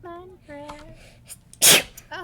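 A single loud, sharp sneeze bursts out near the microphone during a Minecraft livestream, briefly preceded and followed by a person talking.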